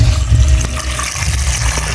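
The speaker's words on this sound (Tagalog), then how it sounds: "Talagyan ko na po ng tubig." Water pours steadily into a cooking pot for sinigang, a close, continuous splashing gush that runs for a couple of seconds.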